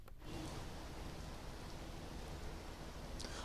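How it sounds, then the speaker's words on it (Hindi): Heavy rain falls steadily in Delhi, a dense, continuous hiss of downpour that stays loud and even throughout, with no voices. "लगातार सुबह से ही तेज बारिश देखने को मिल रही है"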